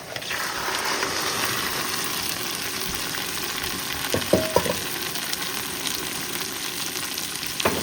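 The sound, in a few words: crab frying with onion, ginger and garlic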